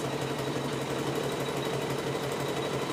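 A sewing machine runs continuously at steady speed while satin-stitching a pumpkin design, a close, even mechanical whir with a rapid needle rhythm and no talking.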